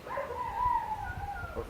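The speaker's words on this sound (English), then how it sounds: "same howling dog is still here in Supertramp" A dog in Cusco at night lets out one long, wavering howl that rises and then falls, close by over a low rumble of background noise.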